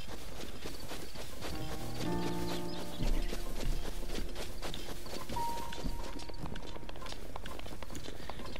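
Horse hooves clip-clop at a steady walking pace in Zelda: Breath of the Wild, a mountain crossing on horseback, moderately close beneath game music with soft rustling ambience.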